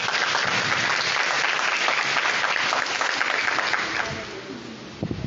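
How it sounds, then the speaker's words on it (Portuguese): A church congregation at a Sunday Bible school claps loudly and steadily in praise, a dense wash of hands that thins and fades near the end. "Vamos dar um aplauso mais forte ao Senhor."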